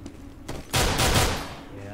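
Gunfire in a CS:GO match, a few sharp shots followed by a loud, dense burst of rapid fire lasting under a second, with a commentator's voice audible underneath.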